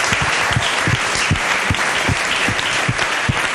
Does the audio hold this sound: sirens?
no